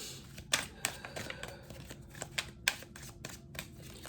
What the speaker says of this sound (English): I just do a little bit of shuffling on camera for you